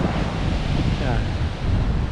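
Waves wash steadily along an Arctic Ocean shore, a continuous broadband roar of surf mixed with wind buffeting the microphone, loud and close throughout.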